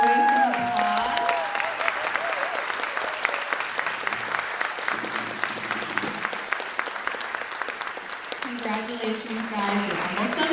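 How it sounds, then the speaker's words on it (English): Sustained applause from an audience at a middle school band concert, standing to honor the 8th graders, with dense clapping throughout and a voice speaking over it near the start. "If our 8th graders could please stand and enjoy some applause."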